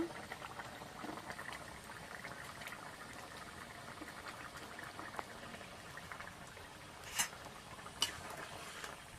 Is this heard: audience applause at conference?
no